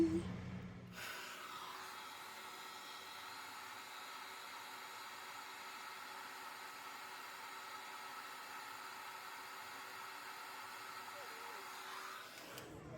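A hair dryer blows on medium-length hair set on perm rods, a steady, fairly loud whirring rush that switches on after a second and holds evenly until cutting off near the end.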